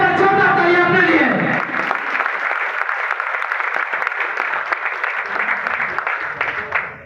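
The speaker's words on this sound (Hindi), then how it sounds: "एक बार जोरदार तालियां अपने लिए" Someone speaks briefly at a public gathering in Kanpur, then a crowd breaks into loud, sustained clapping that carries on to the end.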